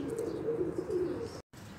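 Pure-breed golden kabootar pigeons coo in a low, steady murmur close by, with faint chirps above and a brief dropout near the end.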